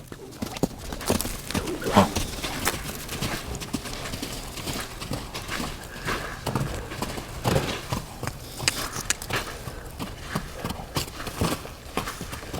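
Hooves clip-clop steadily on soft ground as a weanling horse moves around a round pen at a trot, with occasional faint voices in the background.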